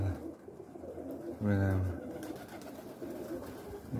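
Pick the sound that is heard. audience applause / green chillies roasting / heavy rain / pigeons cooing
pigeons cooing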